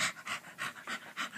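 A person imitates a panting dog, breathing in quick, rhythmic huffs about five times per second, close and alone.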